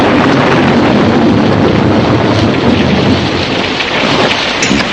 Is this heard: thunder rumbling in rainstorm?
yes